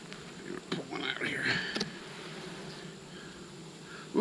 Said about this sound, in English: Have the other hive next door here robbing. This one has a lot of honey in this hive.